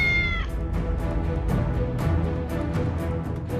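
A black cat meows over a dense music bed, the cries repeating across the few seconds and sitting near and clear above the score.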